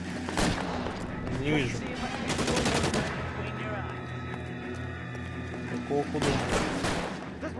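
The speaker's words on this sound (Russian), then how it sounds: "Откуда стреляет?" Gunfire in L.A. Noire, sharp bursts of shots and rapid volleys arriving in clusters, with quieter stretches between them, while someone talks over the action.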